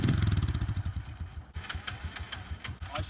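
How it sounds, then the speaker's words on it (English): Small motorbike started on its electric start, then idling roughly with an uneven, sputtering low putter that dips and catches, close by with no talk. "I should be able to start the motorbike with the electric start and only the electric start. See that? It's ticking over, but it's ticking over really bad."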